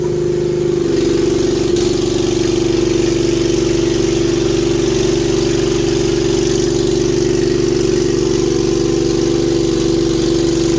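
Manlift engine running steadily close by, a loud constant hum with a brief shift in tone near the start as the upper arm is raised, no talking.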